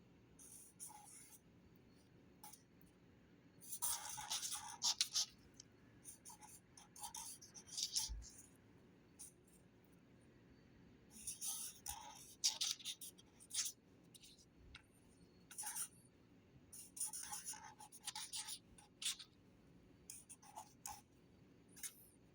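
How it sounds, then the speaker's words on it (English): Handwriting with a pen on paper, close and quiet, in irregular bursts of scratchy strokes separated by pauses, with no talking. "First, I'm just going to write it normally."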